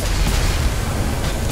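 A loud, sustained booming blast from a gunpowder storage explosion in the video game Magicka, a dense low rumble filling the whole moment with no pause.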